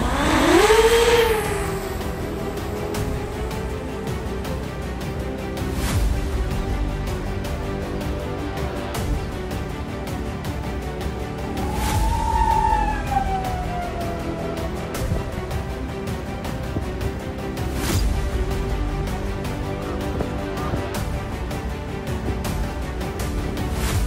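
A high-speed racing drone built for a world speed record has its motors run at full throttle for several seconds, a steady loud whine with rising and falling pitch sweeps over constant broadband noise.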